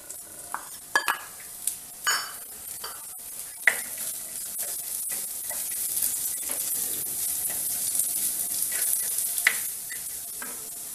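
Onions and green chillies fry in oil in a pan for a prawn curry, a continuous sizzle broken by the clink and scrape of a spoon stirring against the pan.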